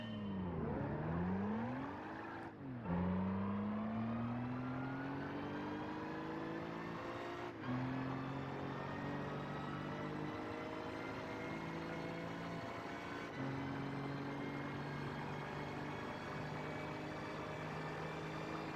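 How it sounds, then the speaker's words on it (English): A race car engine in Gran Turismo 5 revs and shifts through gears with a racing-transmission sound, pitch climbing steadily between shifts, continuous and even. "it almost sounds like it has a racing transmission"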